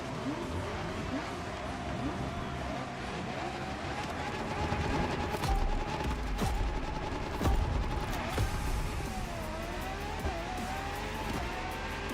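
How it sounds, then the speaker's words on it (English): A LaFerrari with its hybrid engine roars in The Crew Motorfest racing game, the revs rising and falling steadily at close range, with brief tire squeals and thuds. "La Ferrari is the first Ferrari we have with an hybrid engine."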